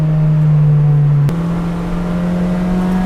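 A track-focused Acura RSX, about 250 horsepower to the wheels and without power steering, drones loudly and steadily near the engine, its tone jumping abruptly partway through as VTEC engages, then holding at the new pitch.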